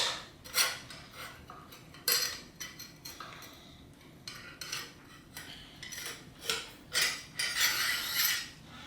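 A 5 mm metal T-wrench used as a rod pushes the spring out of a rusted, seized RST Gila T5 bike fork, producing scattered metallic clinks, scrapes and clanks at close range.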